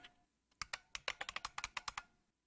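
A username is typed on a computer keyboard in a quick burst of about fifteen close, crisp keystrokes, with quiet pauses before and after.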